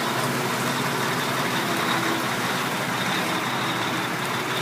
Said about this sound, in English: Bye, Mack truck!